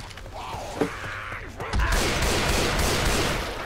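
A teammate's gunfire bursts out in Left 4 Dead 2, a loud stretch of rapid shots following a brief voice and some mechanical clatter.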